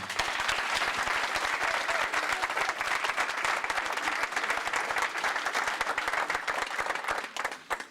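Sustained thunderous applause from a crowd at a Congolese community welcoming gathering in London, dense steady clapping filling the whole stretch before fading near the end.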